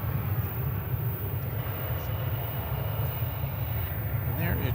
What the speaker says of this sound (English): That's American Flight 1992 off to Seattle.